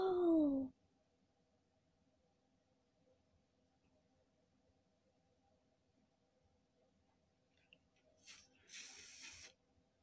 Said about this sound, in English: So I'm going to spray it all along this edge.